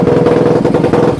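Kawasaki KX450 dirt bike engine running with no exhaust fitted, a loud, steady, close-up rattling drone with fast even firing pulses throughout.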